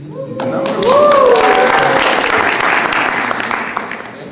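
Audience applause at a talk about an Israeli kibbutz and ecovillage, a dense wash of clapping that swells after a moment and holds steady. A voice speaks briefly over the start as the clapping builds.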